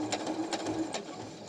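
Home sewing machine slowly stitching through a thick section of hooded towel terry fabric, a quiet rhythmic mechanical whir of needle strokes, close and alone.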